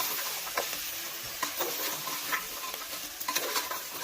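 Spices being stirred into trotter curry in a pan: soft, steady sizzling frying with a few clinks and scrapes of a spoon against the pan, fairly quiet and close, no talking.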